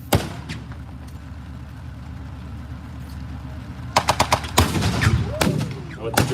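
Gunfire at a WWII tank battle reenactment, beginning with one loud shot, then a quiet stretch before a rapid burst of sharp reports and further shots over rumbling engine noise outdoors.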